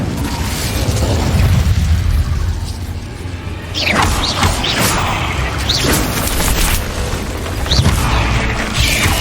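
Incendio fire spell blasts in Hogwarts Legacy burst out as loud, close booming explosions with crackling pops, following a rumbling stretch and recurring several times over a noisy background.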